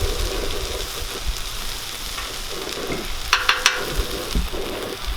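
Hash browns fry in ghee with a continuous close crackle and sizzle, broken by a few sharp ticks of utensil contact partway through.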